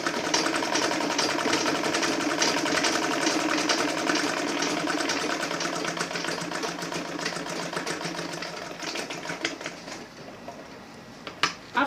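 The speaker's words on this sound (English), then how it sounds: "I sew them together." A sewing machine stitches leather to Ankara fabric with a fast, steady mechanical whirring and clatter, running close and continuous before slowing and stopping near the end.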